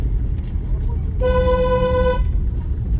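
A car's horn sounds once during a driving lesson, a single steady honk lasting about a second over continuous road and engine noise.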